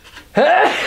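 A person sneezes once, a sudden sharp burst after a brief quiet intake, close and loud.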